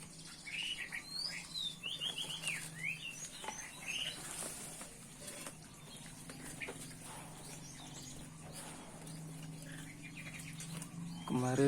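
Female flycatchers in an aviary give a series of short, high chirps and tweets, busiest in the first few seconds and then sparser, heard fairly close against a steady outdoor background hum with faint patter.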